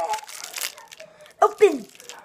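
Crinkly plastic food packaging being tugged and opened, with sharp rustling crinkles and a couple of louder crunching bursts near the end, mixed with someone talking nearby.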